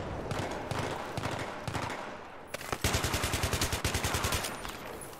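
Rapid automatic gunfire in Battlefield 3 on Xbox, a steady rattling burst that grows louder and closer partway through, with scattered shots over a busy battlefield din and no talk.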